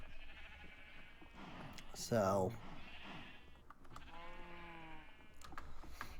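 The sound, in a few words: sheep bleating in Minecraft video game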